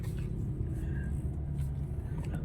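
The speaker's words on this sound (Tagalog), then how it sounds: "Traffic oh, grabe" Congested road traffic with cars and motorcycles, a steady low engine rumble and hum heard from a nearby vantage, continuous and fairly quiet with no distinct passes standing out.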